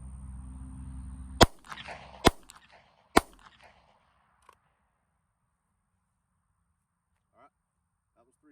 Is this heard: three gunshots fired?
yes